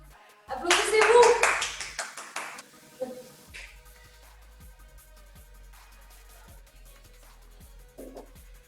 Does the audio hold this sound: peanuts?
no